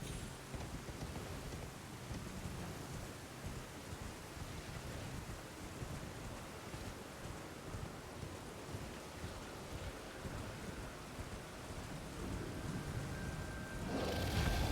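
Steady rain hisses in a dense, even wash throughout the stormy Dragonbarrow region of Elden Ring, with low rumbling underneath, growing louder toward the end, with no talking.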